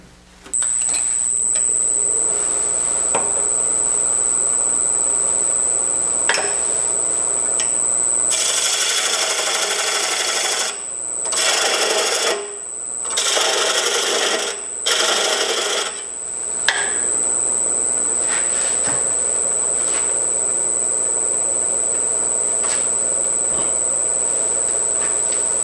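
Wood spinning on a lathe while a hollow form with a threaded lid is finished, giving a steady high whine with several bursts of scraping, rasping gouge cuts in the middle, close and without talking.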